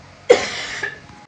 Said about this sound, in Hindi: अभी खांसी पता नहीं इतना ज़्यादा आ रहा है और बहुत ही ज़्यादा दर्द हो रहा है।